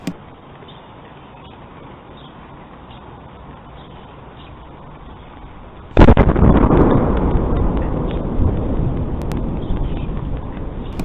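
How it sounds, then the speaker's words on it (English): A loud explosion, reportedly a meteorite over Massachusetts, bursts in suddenly after several seconds of quiet background noise and leaves a sustained roaring rumble that slowly fades. "There was an actual explosion. I'll play you another clip now."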